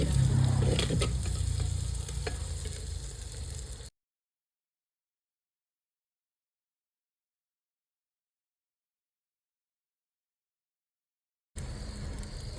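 Tomatoes cooking in a clay pot over a wood-fired stove, a close sizzle with stirring clatter that cuts off into a long silence before the faint sizzle returns.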